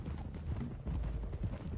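Horse hooves clip-clop steadily on the ground in the Red Dead Redemption 2 video game, a dense, close run of muffled thuds that carries on throughout.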